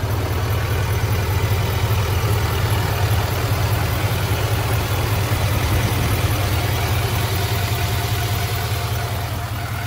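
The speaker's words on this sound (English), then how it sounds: "this engine's really pulling some serious power" A 2024 GMC Sierra Denali Ultimate HD truck's big engine idling, a loud, steady, unbroken low drone with a constant hiss, heard close and alone.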